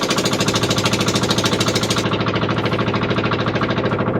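A motorized fishing boat engine on a river in Ganges dolphin country chugs with a fast, even, pounding rhythm, loud and close, running steadily throughout.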